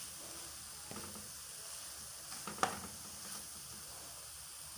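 Carrots, peppers and eggs sizzle steadily in a frying pan for a protein breakfast, a soft continuous hiss with a few louder crackles and pops near the middle, close and fairly quiet, no voices.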